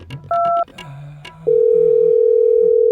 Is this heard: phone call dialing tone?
yes